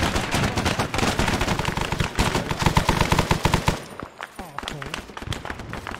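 Dense, loud gunfire in Arma 3 Vietnam, including sustained machine-gun bursts close by, rattles almost without pause before thinning into scattered shots, with voices talking over it.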